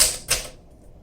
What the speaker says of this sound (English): as you probably have noticed, when I'm doing my typing demo